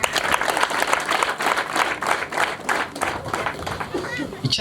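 A crowd at a ceremony closing a volunteer service month claps for the local sector leader. The applause is continuous and moderately loud, with voices rising through it toward the end.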